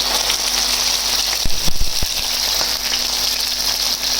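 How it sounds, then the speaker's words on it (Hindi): Fish sizzling in a pan of hot oil as one side fries, a steady loud hiss with a few low bumps near the middle and no talking. "ये 5 मिनट दूसरी साइड से हम फ्राई करेंगे"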